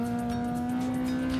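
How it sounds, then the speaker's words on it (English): An off-road race truck in the NORRA Mexican 1000 desert race, a loud steady engine drone holding one tone at close range before cutting off sharply, with no talking. "And we have another truck coming our way."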